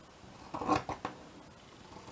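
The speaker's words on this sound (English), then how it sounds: "Let's just cut a piece of this. Chop that a bit off." Big scissors snip through a piece of fabric scrap in a few quick, close cuts, with a short rasping rub between them in a quiet room.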